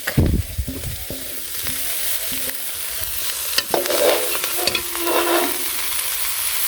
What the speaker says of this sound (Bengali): মাছগুলো ভেজে নামানোর পরে দিয়ে দিলাম এর মধ্যেই শাক